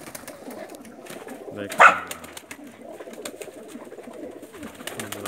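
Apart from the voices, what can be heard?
Pakistani Tedy pigeons cooing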